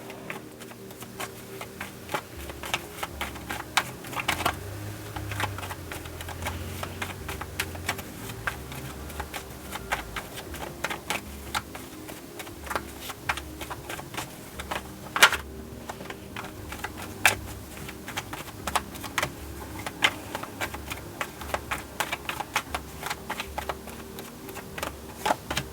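Tarot cards riffled, shuffled and pulled from a deck, a long run of crisp taps and soft flicks repeating at close range, with no talk.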